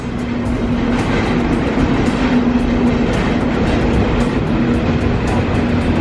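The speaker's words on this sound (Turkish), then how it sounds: "Bizi Oberalpas'a götürecek tren." Matterhorn Gotthard Bahn train climbing a steep grade toward Oberalp Pass in the Swiss Alps, heard from on board as a steady loud rumble with a sustained motor hum and faint rail clatter, no talking.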